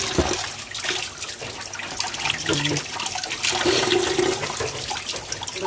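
Tap water runs and splashes steadily while baby squash is washed, a loud continuous gush with small rattles and shifts.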